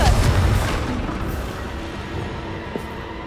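Confringo blasting-spell explosion in the video game Hogwarts Legacy, a dull, fairly loud boom that decays into a low rumbling tail.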